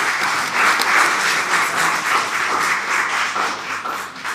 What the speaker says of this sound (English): A final round of applause.